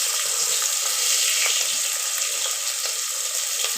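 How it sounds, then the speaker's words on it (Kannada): Onions frying in a pan with cumin and green chillies for rice upma, giving a steady, close, even sizzling hiss that runs unbroken throughout with no talking. "ಇದನ್ನು ಚೆನ್ನಾಗಿ ಫ್ರೈ ಮಾಡ್ಕೋಬೇಕು."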